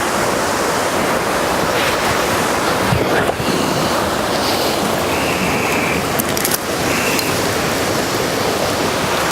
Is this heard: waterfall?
yes